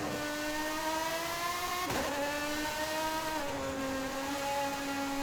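A high-revving Lamborghini engine in Forza Horizon 5 whines steadily, then drops pitch abruptly as it downshifts, with crackles and rising and falling revs throughout.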